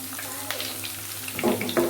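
Garlic sizzling in hot oil on a stove for a dal tadka, a steady crackling fry with a few clinks and stirring sounds near the end, close and moderately quiet.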